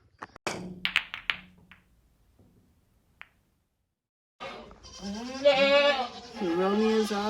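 Goats bleat at a goat show fairground in Barriere, a few sharp knocks and thuds first, then after a quiet gap a loud, wavering bleat close by that repeats and stretches out.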